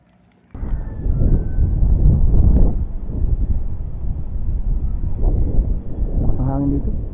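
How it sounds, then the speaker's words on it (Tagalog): Steady wind rumbles and buffets close to the microphone throughout, with a voice speaking over the noise. "Ang hangin dito."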